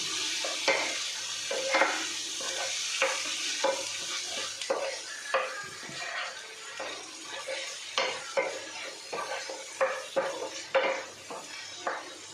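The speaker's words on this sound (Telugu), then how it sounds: "ఇప్పుడు మనం వేసుకున్న కారం అల్లం వెల్లుల్లి పేస్ట్ పచ్చివాసన పోయేంత వరకు ఇలా బాగా ఫ్రై చేసుకోవాలి" Chili powder and ginger garlic paste frying in a pan for a raw prawn fry, with a steady sizzle under repeated scraping stirs of a spoon against the metal, close and fairly loud.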